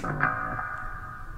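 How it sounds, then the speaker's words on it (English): A song ends with a heavy reverb effect, its final chord swelling briefly and then washing out into a long, smeared, gradually fading tail. "That's quite a bit of reverb."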